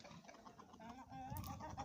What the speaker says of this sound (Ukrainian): знайшов півник і позвав своїх курочок так мило